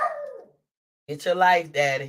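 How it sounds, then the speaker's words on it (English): A pet dog, a male, whines and yips in high, wavering cries near the start, then someone talks loudly nearby. "Sorry for my dog barking."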